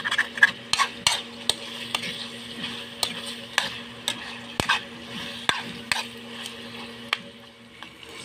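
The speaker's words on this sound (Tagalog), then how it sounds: "Tapos halo ng maayos." Lechon paksiw being stirred and fried in a pot outdoors, with repeated sharp scrapes and clinks of the spoon against the pot over a constant low sizzle.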